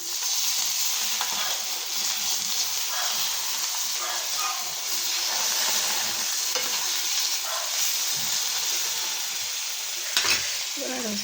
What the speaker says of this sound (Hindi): उसको बटर में पनीर रोस्ट करके लेके जा रही हूँ